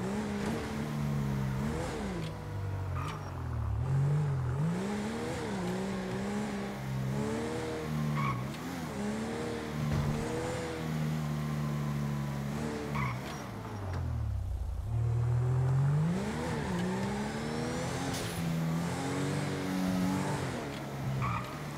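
Police patrol car in the video game GTA, engine droning and rising and falling steadily as it accelerates and shifts through gears, with occasional tire squeal, continuous and close throughout.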